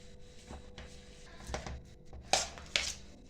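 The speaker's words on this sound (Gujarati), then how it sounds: "ચાલો હવે આ બધી વસ્તુને આપણે પીસી લેવાની છે સરસ." Boiled potatoes being mashed with spices in a bowl for Kathiyavadi batata vada, heard as soft irregular squishing and pressing thuds with a few sharper knocks against the vessel.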